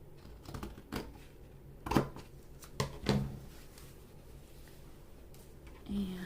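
Scissors cutting paper while a journal is made, a few short, crisp snips and rustles spaced over several seconds, close and fairly quiet, with faint handling sounds.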